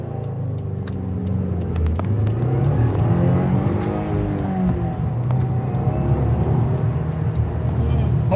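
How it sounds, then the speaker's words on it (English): A 2020 Subaru WRX turbo engine pulling through acceleration from inside the car, a steady close engine drone with rising and falling pitch sweeps; people talk over it. "Hopefully you guys can hear all the turbo noises this car makes over the live drive."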